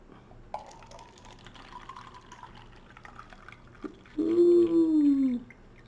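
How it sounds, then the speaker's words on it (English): Liquid poured from one cup into a second cup, a brief loud gurgling fill near the end after quiet handling sounds, close and without talk. "now we're going to pour the contents of the first cup into the second cup"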